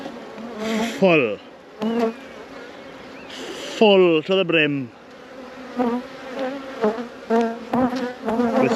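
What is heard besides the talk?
honey bees on a beehive honey super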